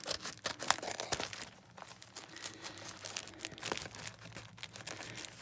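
A wrapped advent calendar package is torn open by hand, a run of close crinkling and ripping of paper and plastic in irregular bursts, with no talking.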